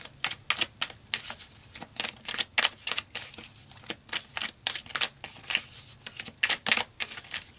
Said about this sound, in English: I'm going to shuffle some more